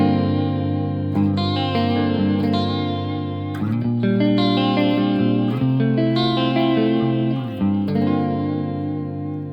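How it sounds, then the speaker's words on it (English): An Ibanez electric guitar played through a JHS Artificial Blonde vibrato pedal on preset B gives sustained chords with a lush, wavering pitch, loud and steady with no talking. "Now that's about as good a vibrato as I've ever heard"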